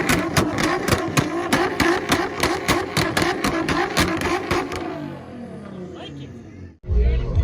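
A Nissan GT-R at an import car show fires off a rapid string of sharp popping bangs from a launch-control 2-step, loud and near, before the engine note trails away and a short roar returns at the end.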